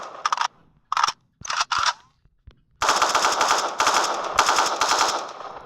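AK rifle gunfire in the video game GTA IV, a few short sharp bursts separated by silence, then a sustained loud stretch of rapid automatic fire.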